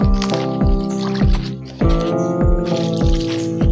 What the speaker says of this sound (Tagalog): Lalagyan natin ng tubig kasi madulas ito